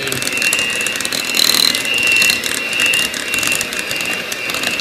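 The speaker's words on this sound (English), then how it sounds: "Now the hand mixer comes in really handy, so we're just going to turn it on low" An electric hand mixer runs on low speed while cleaning cheesecake batter for a Polish cheesecake, a steady close whirring buzz with a rattling mechanical texture and faint high whine throughout.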